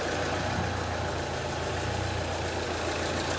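A rebuilt Opel Vectra C Z19DTH diesel engine runs at a steady idle, a continuous close, even rumble with no voices.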